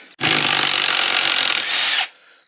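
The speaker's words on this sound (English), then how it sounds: "Grab our impact here." An impact wrench is used on a Briggs & Stratton engine during a camshaft replacement. One loud, close burst lasts about two seconds, then cuts off into quiet.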